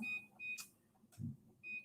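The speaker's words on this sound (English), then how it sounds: "So I'm going to set my timer for 10 minutes." A kitchen timer being set for ten minutes gives three short, high electronic beeps at uneven intervals, quiet and close, with small handling clicks between them.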